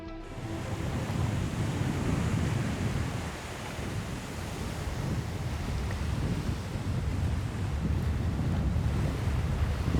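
Waves wash steadily onto the Sinan tidal flats in South Korea as the tide comes in, while wind buffets the microphone, a continuous broad roar with no pauses.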